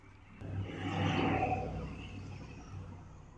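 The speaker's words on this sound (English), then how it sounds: "check out this Dentside coming up the road right here" A Dentside Ford pickup truck drives by on a road, its engine rumble swelling to a peak and then fading off in the distance, moderately faint.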